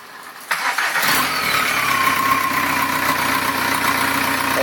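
A car fitted with a single exhaust pipe capped by a paint can lid cranks briefly, then catches and settles into a steady, close idle with a faint rising whine, and nobody speaks.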